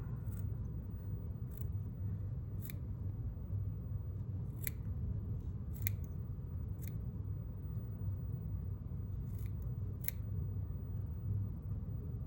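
Scissors snipping craft fur free from its hide while tying a marsh mud minnow fly, with sharp, irregular cuts over a constant low rumble of background noise.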